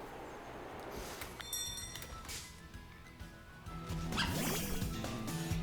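An elderly dog makes a few rough, hacking coughs and yips in irregular bursts, close by and fairly loud, over a low background hum, with no talking.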